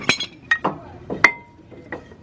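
Light metallic clinks and taps as a clamp is removed from a brake caliper on a 2004 GMC Yukon, a few sharp ringing knocks spaced apart with quiet gaps between.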